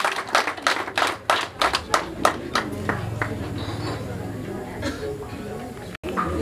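Scattered hand claps from a small group at a Rwandan family bride-price ceremony, quick uneven claps for the first couple of seconds, then fading under a murmur of voices and talk.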